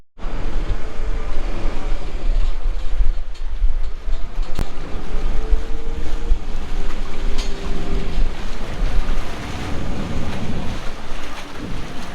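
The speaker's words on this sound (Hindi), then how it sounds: "ये फेरी अगली मंजिल की तरफ रवाना हो गई है।" A ferry motors across the Venice lagoon toward Murano, its steady engine rumble mixed with wind buffeting the microphone and water rushing past the hull, continuous and loud with no talk.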